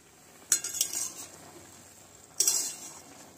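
A utensil stirring tomatoes cooking down in a pan for homemade tomato sauce, two bursts of scraping and clinking against the pan, separated by a quieter stretch of soft bubbling.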